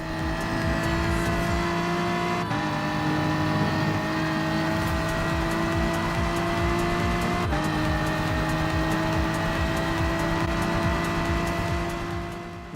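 Race cars in Gran Turismo Sport battle around Interlagos, engines droning with sustained high revving tones and two sharp gear shifts, steady and loud alone without talk.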